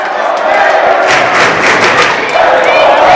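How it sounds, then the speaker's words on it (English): A high school student section roars and chants at a girls' sub-state basketball game in a gym, a loud sustained crowd din with rhythmic shouting surges and an announcer's voice over it. "Wamego student section trying to cheer on the Lady Raiders"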